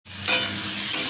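Food drops into a hot pan and bursts into a steady, close sizzle, with a sharper crackle near the start and another toward the end.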